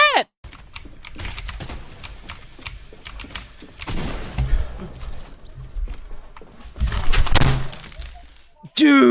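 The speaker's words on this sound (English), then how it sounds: "Dude, I heard the keys go everywhere." A computer keyboard breaks apart and its keys scatter across a hard surface in a burst of rapid clattering taps, loud and close, with voices reacting around the noise.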